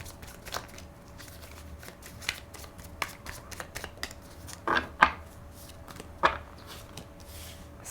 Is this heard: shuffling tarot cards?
yes